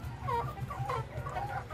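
Chickens and a rooster fed boiled eggs cluck close by in short, repeated, rising calls over a low background hum, with no talk.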